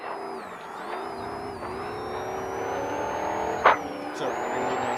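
An off-road race car in an Ultra4 Legends class race at Prairie City passes close by, a steady loud engine drone with shifting pitch and a brief sharp burst near the end.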